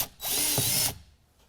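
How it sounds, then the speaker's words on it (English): A power drill bores an 11/16 hole to install a tie-down track. It spins up for a short burst of under a second, loud and close, then winds down. "we're going to go ahead and follow that up with an 11/16 drill."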